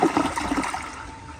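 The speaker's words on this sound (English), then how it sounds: "the flush is actually pretty decent" A 2014 AquaSource Henshaw toilet flushes loudly up close, a rushing surge of water draining into a steady trickling refill as the bowl rinses.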